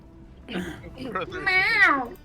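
A cat meowing in a rising, drawn-out call near the end, with people talking around it in a tabletop game session.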